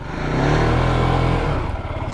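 A Zontes G155 motorcycle, a small single-cylinder bike with about 7,000 km on it, revs up close to the microphone. The engine holds a steady, loud drone for about a second and a half, then drops back to a rough, pulsing idle.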